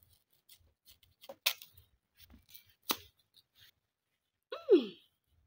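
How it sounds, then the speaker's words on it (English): A kitchen knife cuts a giant yam into smaller pieces in a village kitchen in Kenya, making a few faint, sharp, isolated cutting clicks in a quiet setting, followed by a brief vocal sound. "Then I cut them into a smaller pieces."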